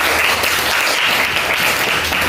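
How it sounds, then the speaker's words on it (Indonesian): A classroom group claps for a student: dense, even applause sustained for a couple of seconds at close range, with no voices over it. "tepuk tangan buat Ananda Nabila."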